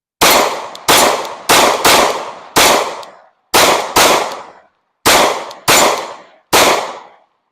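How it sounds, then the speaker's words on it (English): A Glock 26 pistol fires at a range, about ten loud, sharp shots in uneven pairs and singles, each with a short ringing decay into silence. "I'd be forgetting how good this Glock 26 shoots. All right, let's hit another magazine."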